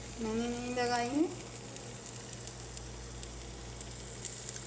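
Pizza salan covered in a pan cooks with a soft steady sizzle and faint crackles, with a brief voice over the sizzle at the start.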